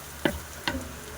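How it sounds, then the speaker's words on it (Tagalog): Two short sizzling bursts as onion and garlic hit hot oil in a pot, separated by a brief pause, over a faint background hiss. "Sa mainit na kaserola, naglagay lang ako ng mantika kasi magigisa na ako ng sibuyas at bawang."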